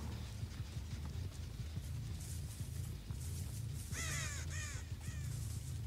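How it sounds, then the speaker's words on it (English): A crow caws in the video game Dead by Daylight, several harsh calls heard faintly at a distance over a low droning ambient rumble, clustered toward the end. "Maybe it was a crow."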